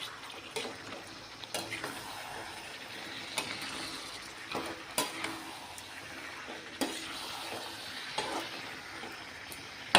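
Chicken sautés in oil in a pan for a desi chicken curry, a faint hiss with repeated scraping and clinking from stirring at irregular intervals.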